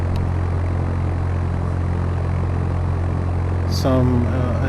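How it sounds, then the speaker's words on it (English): Airplane engine droning in the flight game Fly! II near Chicago O'Hare: a steady, loud, even hum that holds throughout, with a brief tonal blip near the end. "I think there's a plane down there."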